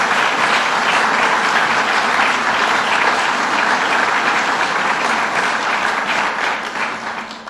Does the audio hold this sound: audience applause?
yes